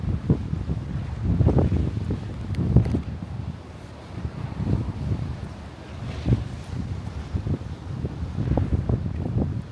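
Gusty seaside wind buffets the microphone in rising and falling bursts at the Cirkewwa ferry and bus terminal, with a low rumble of the sea underneath.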